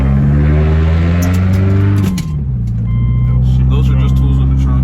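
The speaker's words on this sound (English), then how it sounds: "This first time pulling out the car after doing the coils." A Subaru Outback rolls out for its first drive on newly installed coilovers, its engine note shifting and dropping as it pulls away, with a steady low hum throughout and a voice talking over it.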